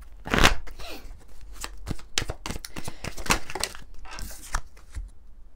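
Tarot cards being shuffled and drawn for a love reading, a busy run of papery riffling, flicks and soft slaps close to the microphone, strongest near the start, with no talking.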